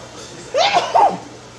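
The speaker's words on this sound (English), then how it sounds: "I'm about to sneeze." A single close sneeze triggered by habanero peppers, a sharp burst with a quick two-part catch, loud against a quiet room.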